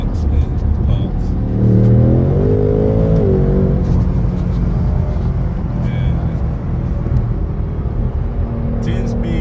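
A car with a 10-speed manual transmission revs hard in fifth gear, its engine note climbing and falling in one loud sustained pull with crackling exhaust pops, as people talk over it.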